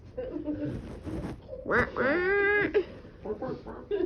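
A person imitates a duck with a voice, giving a drawn-out nasal quack in the middle. Brief spoken words from the person come before and after it.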